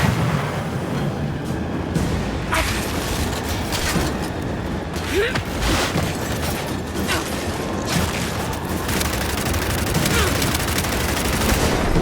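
Heavy turret fire and explosions hammer away in Gears 5, a dense, continuous barrage up close with booms mixed in, while players shout over it.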